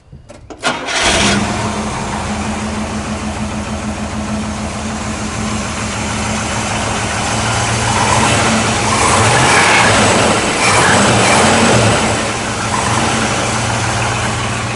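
A 1979 International Scout II halftop engine cranks and catches, then settles into a steady, loud idle with a few throttle blips and revs rising midway, close up and with no talk over it.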